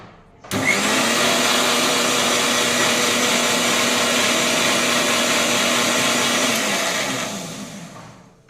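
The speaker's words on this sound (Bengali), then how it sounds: "চলো পোস্তটা মেটে নিয়ে" An electric mixer-grinder pulverizes poppy seeds into a paste in a home kitchen, a loud, steady whirring roar that starts abruptly and runs unbroken for about seven seconds before winding down.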